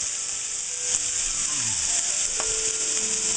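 Potatoes fry in a pan with green onions, giving a steady, loud sizzle that runs the whole time. Faint clinks and scrapes of cookware sit underneath, and no one speaks.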